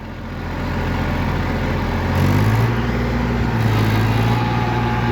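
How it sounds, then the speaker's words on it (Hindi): A Massey Ferguson 245 DI tractor pulls a 7-foot rotavator through a field under load, its diesel engine a loud, steady, close drone whose pitch climbs and settles as it digs deeper, with no talking. "और ट्रैक्टर अब लोड ले रहा, क्योंकि गहरा जोता शुरू की जोताई है"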